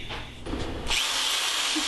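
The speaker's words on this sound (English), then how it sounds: "when we're drilling right through our press" A power drill whirs into the wood of a wooden book binding press, its pitch shifting as the bit bites through, then a higher steady whine as it spins freely.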